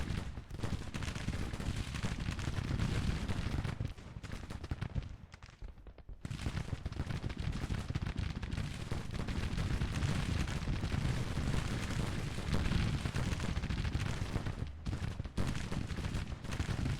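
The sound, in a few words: gunfire and cannon fire in Grand Tactician: The Civil War video game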